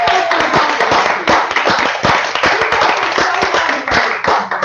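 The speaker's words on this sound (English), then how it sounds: "how about a final round of applause?" A final round of applause from a small live-show audience, close and loud, with distinct individual claps in a brisk, uneven rhythm and no talking over it.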